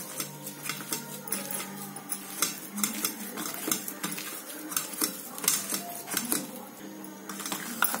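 Spoon scraping and clinking in a bowl as grated carrot is mixed with spices for a potato snack, giving a steady run of close clatter with no talking.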